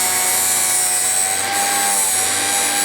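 A Vevor Model 13A drill bit grinder sharpens a drill bit, giving a steady high motor whine with a continuous grinding hiss, loud and close with no speech.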